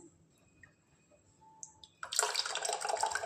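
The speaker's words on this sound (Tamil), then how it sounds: "புளி கரைச்சல் ஆட் பண்ணிக்கலாம்." Tamarind water being poured into a pot of lentil rasam: after a near-silent start with faint clinks, a steady close splashing pour begins abruptly and continues to the end, with no talking.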